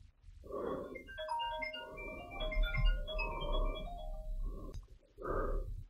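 A phone rings with a bright melodic ringtone, tones stepping up and down across several seconds, accompanied by breathy snorting sounds at the start and end.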